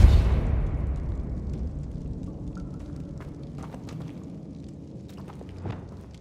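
A spell impact in the wizarding game Hogwarts Legacy, a single deep booming burst at the start that decays into a low rumbling tail, followed by faint scattered clatter, with no talk.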